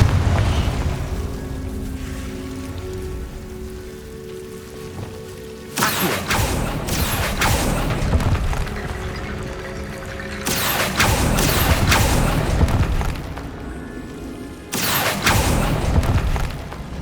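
Explosions from the Confringo spell in Hogwarts Legacy come as sudden loud booming blasts that break into a continuous rumbling game background, with several separate impacts following one another and no voices.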